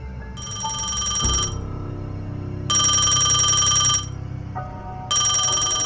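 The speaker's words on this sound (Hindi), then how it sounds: "दरवाजा खोलते ही उसका फोन बज उठा।" A telephone rings as an audiobook sound effect in a horror story, sounding in three loud bursts separated by short pauses, with a faint low hum underneath.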